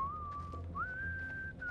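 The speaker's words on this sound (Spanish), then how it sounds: "Basta, viejo, basta con el silbido." Whistling inside the video game House of Ashes: a clear sustained tone, a short pause, then a higher held note, over low rumbling game ambience.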